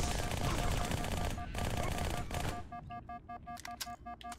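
Automatic gunfire from shooting grunts in Halo 2 Anniversary, a dense sustained burst up close that thins out into separate sharp shots and electronic game sounds.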